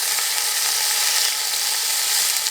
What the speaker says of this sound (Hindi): अब 2 से 3 मिनट के लिए इनको अच्छे तरीके से भून लेंगे।